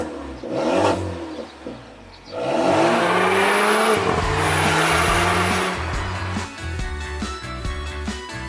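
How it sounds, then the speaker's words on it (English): Four-cylinder Volvo-sourced engine in a Lynk & Co 03+ compact sedan revving with a metallic rasp, rising and falling through several pulls, up close and loud with no talk. "The Volvo 4-cylinder sounds surprisingly good, and it does so without resorting to pumping fake engine noise into the cabin"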